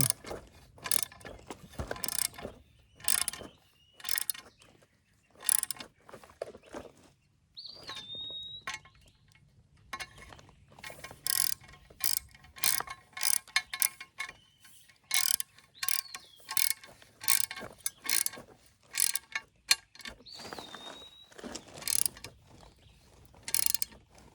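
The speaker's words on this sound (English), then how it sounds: "So hand tighten this too." Hand ratchet tightening bolts on a 7th-generation Nissan Maxima engine, rapid clicking bursts repeated in short runs with pauses between, close and clear, with faint birds chirping in the background.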